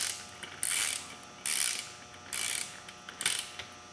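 Ratcheting on beadlock rim bolts of a 2003 Polaris Ranger 6x6 tire, heard as four close, loud bursts of rapid clicking separated by short pauses, with no talk.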